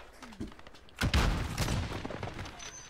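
Gunfire in the video game Warzone: a sudden burst of rapid shots begins a second in and rattles on densely, with brief voices heard before it.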